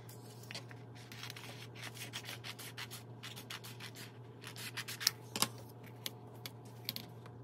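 Fine pointed scissors cutting through heat-transfer vinyl and its backing make a quick series of small crisp snips and rustles over a steady low hum, close and fairly quiet, with no talking.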